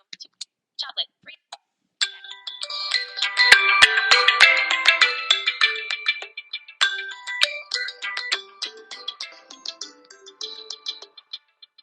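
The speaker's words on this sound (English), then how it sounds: "Phone ringtone." A loud, close phone ringtone of layered bright electronic chimes swells and repeats for several seconds, preceded and trailed by short clipped bursts of synthetic speech.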